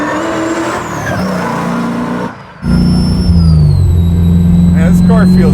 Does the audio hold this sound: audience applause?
no